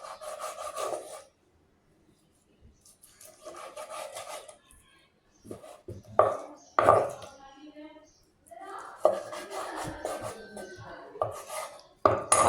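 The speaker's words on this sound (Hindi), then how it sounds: "बोनलेस चिकन है, तो हम इसको इस तरह काट लेते हैं" Knife slicing boneless chicken lengthwise on a board, close up, in short scraping, rubbing strokes separated by pauses, with someone talking at times.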